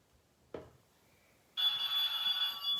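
A telephone rings on a television game show as the banker calls in with an offer, a sudden tonal ring with a sustained bright electronic tone that starts after a brief knock and carries on steadily, fairly loud, with no talking over it.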